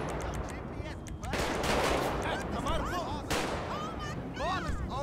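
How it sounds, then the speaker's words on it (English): Gunfire in a police roleplay video game, heard as sharp bursts of shots over a busy background, with a voice speaking at several points among the shooting. "Look, they're shooting at me, I didn't even do anything."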